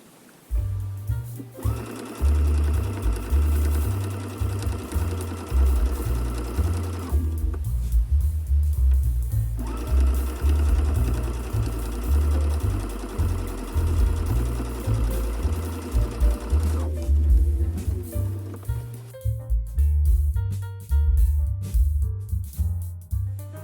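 A sewing machine stitches steadily in free-motion quilting along a ruler, its rapid mechanical hum running loud and close in long bursts with short pauses between passes across a perspective grid.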